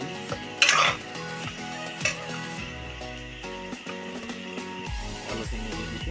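Potatoes tipped into a pan of chicken curry, sizzling steadily while a metal spoon scrapes and clinks against the pan in irregular stirring strokes, with a louder clatter near the start.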